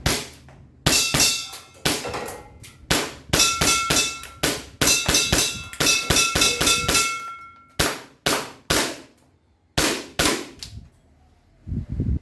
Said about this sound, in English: So now for our firing test, here we go, test firing.